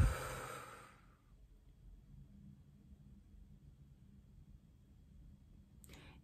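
One long breath is pushed out during a breathing exercise, a soft rushing exhale that fades within about a second and leaves near silence with a faint low hum.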